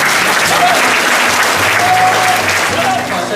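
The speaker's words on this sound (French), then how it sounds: "vous méritez tous, bénévoles, élèves, organisateurs, une belle main d'applaudissements." A large crowd of volunteers, students and organisers at a rally event applauds steadily and loudly, a dense wash of clapping with faint voices and a few whistles mixed in.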